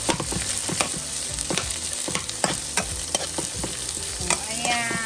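Garlic and onions stirred and fried in a pan for chicken adobo with potato, a dense continuous sizzle with quick, repeated spatula scrapes and clacks, close up and with no talking.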